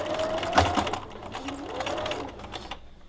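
A sewing machine with a walking foot back stitching fabric, its motor whirring close and fairly quiet with a rising and falling pitch as it reverses, then stopping abruptly near the end.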